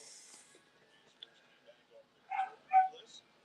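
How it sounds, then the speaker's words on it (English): Dogs barking somewhere near a house, a few short sharp barks and yips bunched near the end, apart from faint thin sounds earlier. "you will hear dogs barking once in a while."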